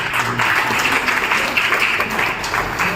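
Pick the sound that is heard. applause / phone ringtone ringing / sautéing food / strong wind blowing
applause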